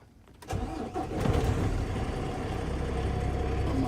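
A truck engine cranks briefly and catches, then settles into a loud, steady low idle heard from inside the cab.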